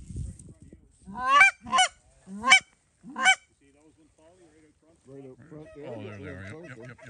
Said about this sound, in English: Those geese are still flying around looking for friends down here.